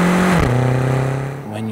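BMW X6M engine pulling hard under acceleration, a loud steady drone that climbs in pitch, drops briefly as a gear changes, then climbs again.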